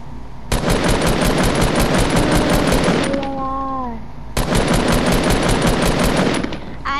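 Rapid automatic gunfire from a gun in a keyboard-and-mouse build battle video game, two long loud bursts of fast repeated shots separated by a short pause with a rising electronic tone.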